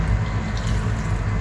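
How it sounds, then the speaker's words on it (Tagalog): Starchy pasta cooking water poured from a pot into a pan of sauce for black pasta with shrimp, a short loud splashing gush close by with no talk. "Tubig ng pasta, yung pinaglagaan."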